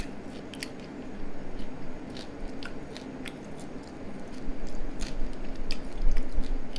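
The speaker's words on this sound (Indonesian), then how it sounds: "Dengar suaranya kriuk-kriuk." Crunchy crab served in pasta is chewed close up, giving a run of crisp, irregular crunching bites that grow louder toward the end, with no talking.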